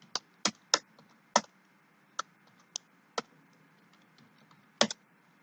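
Code typed on a computer keyboard: sparse, crisp key clicks land one at a time with irregular gaps over a quiet room hum, no talking.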